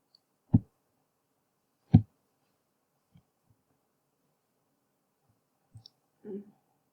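A computer mouse clicks twice, crisp and close, about a second and a half apart, followed by a few faint taps and soft desk noises in a quiet room.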